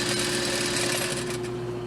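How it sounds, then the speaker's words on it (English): A sewing machine runs continuously while sewing a seam on a knot dress and back stitching over the end, a steady close mechanical whir with a constant hum and no talk. "Sew all the way down to the other end, back stitch good over that"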